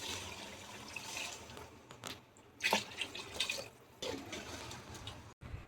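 Water poured into a pot of rice for homemade chicken biryani, a soft splashing trickle with a few louder splashes and clinks midway, fairly quiet and close, with no talking.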